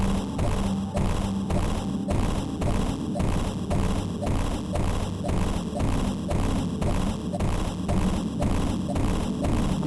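Samus bomb jumping in AM2R: Return of Samus, a steady rapid train of dull thuds and soft bomb blasts repeating at an even rhythm over a continuous game background.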